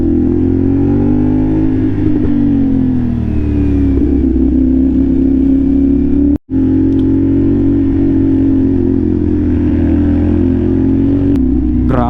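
Big bike motorcycle climbing a curvy mountain road in fog and cold: a loud continuous engine drone with shifting revs and one abrupt cut near the end before it resumes.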